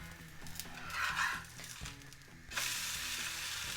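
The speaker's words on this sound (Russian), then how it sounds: "Блин отлично переворачивается, отлично жарится." Steady sizzling of a liver pancake frying in a hot pan, a loud hiss that swells midway with faint scraping and clinks as it is flipped with a spatula, rising sharply near the end.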